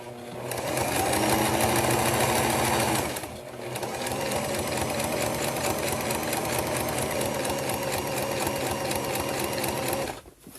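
An electric sewing machine stitching fabric runs in a fast, steady mechanical whir close by, pausing briefly near three seconds before resuming its continuous rattle until the end.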